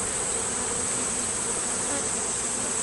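Honeybees swarming busily around hive equipment during a September hive inspection, a loud, close, continuous buzzing drone with no voices.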